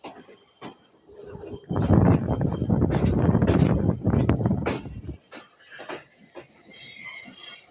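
A train pulls out of Rawalpindi railway station with a rushing swell of rolling wheel noise and wind buffeting, rising and fading over a few seconds amid sparse clicks and scattered ambient sounds.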